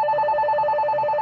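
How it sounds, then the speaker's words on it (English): An electronic telephone ringtone warbles steadily in a rapid pulsing double tone, loud and close, with no talk over it. "What the hell is that phone?"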